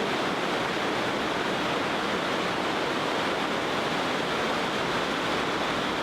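Water rushing steadily through an underground creek, a dense, continuous broadband roar that fills the space with no pauses or voices.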